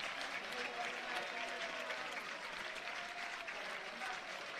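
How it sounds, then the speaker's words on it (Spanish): The UD Poblense crowd at the municipal stadium gives an ovation during a friendly against RCD Mallorca, a broad wash of clapping and cheering at moderate level, steady and somewhat distant. "Escuchamos esa ovación de esa Pobla."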